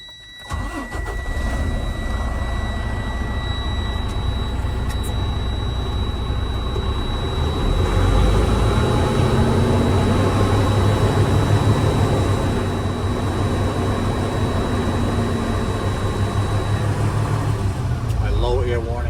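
A truck engine, tested for air brakes, revs up from a start and holds at raised RPM to rebuild air pressure, a loud steady mid-pitched drone with a thin whining tone above it, while someone talks over it.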